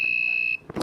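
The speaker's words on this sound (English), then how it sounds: "You have a working piezo circuit wired and coded to a buzzer." A piezo buzzer in an Arduino circuit sounds one steady, loud, high electronic tone for about half a second and then cuts off, followed by a brief soft rustle.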